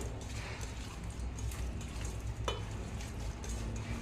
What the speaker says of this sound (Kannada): ಇದನ್ನು ಹಾಕಿ ಸ್ವಲ್ಪ ಮಿಕ್ಸ್ ಮಾಡಿ ಮ್ಯಾರಿನೇಟ್ ಮಾಡಲಿಕ್ಕೆ ಇಡ್ತೇನೆ